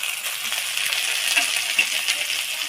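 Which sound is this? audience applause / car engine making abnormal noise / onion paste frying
onion paste frying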